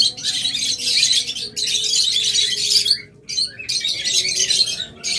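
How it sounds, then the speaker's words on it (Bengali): Several pet cockatiels chirp and squawk loudly and close up, in dense bursts with short pauses between them. "আমাদের কাছে বেশ কিছু ককাটেল রয়েছে"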